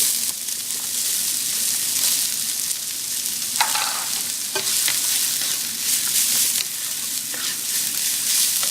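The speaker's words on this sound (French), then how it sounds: "Je vais mettre de l'huile d'olive et faire revenir mes oignons." Onions fry in olive oil in a pan, having followed browned sausages, with a continuous close sizzle and scattered scraping stirs throughout.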